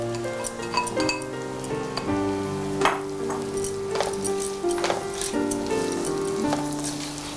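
Chopped onions fry with ginger and garlic for shahi chicken kuruma, giving a steady close sizzle with occasional stirring clinks and scrapes against the pan.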